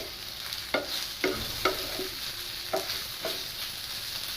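Banana slices fry in oil in a covered pan, giving a steady, soft hiss of sizzling broken by about six sharp clicks and taps from the lid or a utensil at uneven intervals.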